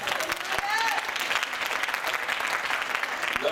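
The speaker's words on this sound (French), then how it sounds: "Est-ce qu'on peut acclamer le Seigneur?" A church congregation applauds in a sustained, dense wave of clapping, with voices mixed into the crowd noise.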